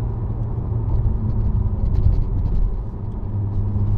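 Toyota A91 Supra driving under steady load, a dense continuous engine and road rumble with a constant whir and no clear break for a shift, close and fairly loud throughout.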